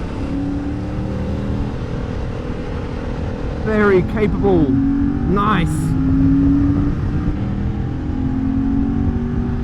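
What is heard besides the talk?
Yamaha MT-07 motorcycle engine while riding corners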